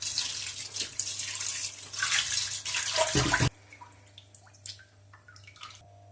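Meat pieces washed under a running tap, a loud steady rush of water splashing in a sink that cuts off abruptly, leaving faint drips and small handling sounds.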